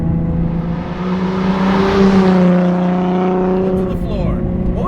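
The V6 engine of a modified 2008 Ford Mustang pulls hard at full throttle from inside the car, its loud drone rising steadily in pitch through one gear, with talk partly over it.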